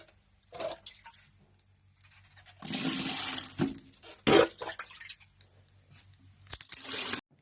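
Dirty water being emptied from a large constrictor snake's pond dish at a zoo, heard in separate bursts of gushing and draining with splashy crunches and quiet gaps between.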